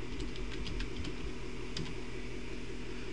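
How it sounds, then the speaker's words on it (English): Quick, light keystrokes tap on a keyboard while a name is entered in a Snakes app, a short irregular run of soft clicks at close range. "So you can see you just type your name in."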